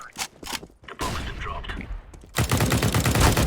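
Bursts of CS:GO gunfire, first scattered shots then a dense, rapid volley, loud and close with faint voices mixed in.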